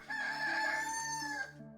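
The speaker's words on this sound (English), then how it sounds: "a loud and clear rooster crow suddenly sounded in the hall." In the video game The Scroll of Taiwu, a rooster crows once, loud and clear, in a hall: a long, ringing, steady call that fades out at the end, with no talking over it.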